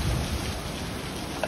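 Heavy rain pours down at a country house, a dense, loud, unbroken hiss of water close by, with a low thunder-like rumble underneath and no voices.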